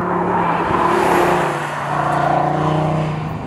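A 2016 Audi TT RS five-cylinder turbo sports car engine runs loud and close with a steady hum, its pitch swelling and easing slightly as it revs.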